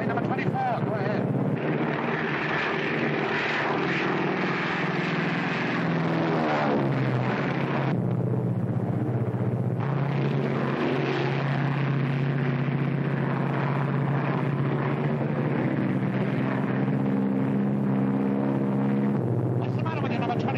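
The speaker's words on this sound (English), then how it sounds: "Private Lunt, plane number 24, go ahead." Propeller engine of a World War II aircraft in flight, a loud steady drone with shifting tonal harmonics running continuously, with voices talking over it.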